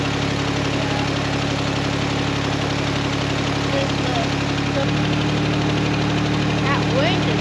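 An old vehicle engine idling with a vacuum leak while its choke is held shut, a steady, loud, slightly rough hum with faint knocking that runs throughout, with a voice talking over it.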